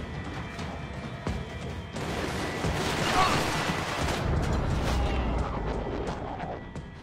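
A dense barrage of Max Payne 3 gunfire and explosions crackles continuously for several seconds, loud and chaotic, with a faint voice underneath.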